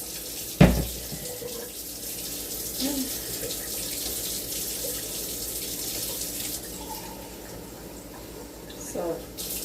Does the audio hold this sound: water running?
yes